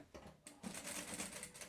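A sewing machine stitches a backstitch at the start of a seam, using a half zipper foot on a lunch bag project; a faint, rapid mechanical rattle runs steadily after a few short taps.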